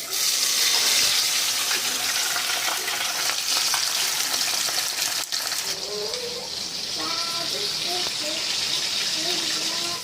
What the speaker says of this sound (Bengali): মাংসের জন্য এখানে আলুটা ভাজা করছি